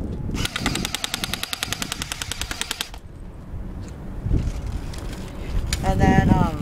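Airsoft Thompson submachine gun firing rapid full-auto bursts, a rattling string of clicks for about two and a half seconds, then wind noise and handling sounds outdoors.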